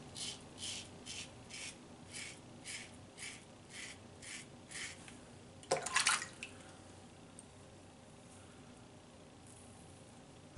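Traditional razor making a third shaving pass against the grain, a series of about a dozen short rhythmic rasping strokes, faint and close, followed by a louder brief scrape near the end.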